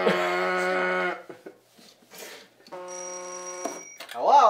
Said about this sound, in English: Answer the phone as soon as it rings.